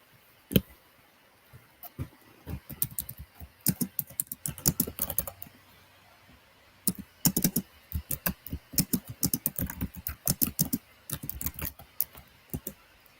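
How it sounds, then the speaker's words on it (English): Rapid clicking keystrokes on a computer keyboard, close and crisp, coming in uneven bursts with short pauses, no voices. "Sorry for the typing noise"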